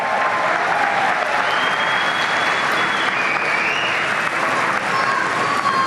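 A crowd at the closing ceremony of the G20 Social summit applauds loudly and steadily throughout, a dense wash of clapping with no pauses.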